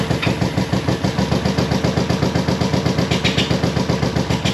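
A vintage Honda CB350 motorcycle engine runs with the choke on, giving a steady, rapid, evenly pulsing idle that stays loud and close for the whole stretch with no voices.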